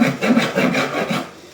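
A knife sawing through a crusty pain de campagne levain loaf to cut thick slices, making rhythmic rasping strokes at a steady back-and-forth pace, close and fairly loud.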